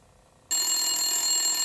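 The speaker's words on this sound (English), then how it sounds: "Is that the phone?" A retro toy telephone, handmade from wood, rings loudly and continuously with a bright, shrill bell tone that starts abruptly after a short quiet moment and holds steady, with no talking.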